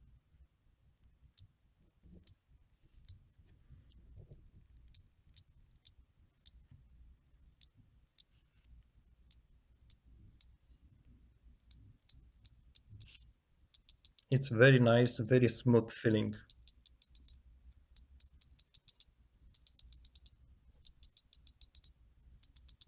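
A bicycle freehub ratchets as the wheel spins, first giving sparse single clicks, then a fast buzzing run of clicks, then slower ticks again, close and crisp. Someone speaks briefly between the clicks.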